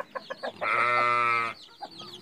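On a farm, a hen with her nine chicks gives a few short clucks, then one long drawn-out call, followed by softer clucks, close and clear.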